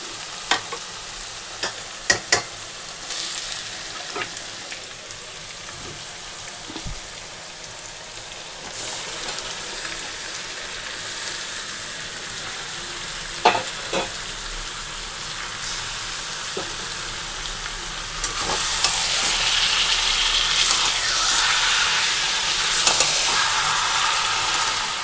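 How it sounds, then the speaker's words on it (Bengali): Spiced meat frying in a pan with onion, garlic, bay leaf, dried red chilli and whole garam masala, a steady sizzle that grows louder toward the end with occasional clinks of stirring, no talking. "আর এখানে এই যে পেঁয়াজ রসুন ফোড়ন দিয়ে বসিয়ে দিয়েছি, ফোড়নে দিয়েছি তেজপাতা, শুকনো লঙ্কা আর গোটা গরম মশলা।"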